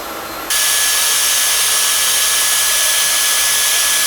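A MOVA X4 Pro cordless vacuum cleaner's loud, steady high-pitched motor whine and airflow roar kicks up in intensity after a moment and runs continuously, close by.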